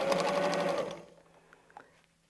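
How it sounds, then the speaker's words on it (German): A sewing machine stitching straight and zigzag during free motion quilting runs with a steady loud whir for about a second, then stops, leaving faint clicks and handling noise. "Wir nähen ein Stück geradeaus, nähen zickzack und nähen ein Stück geradeaus."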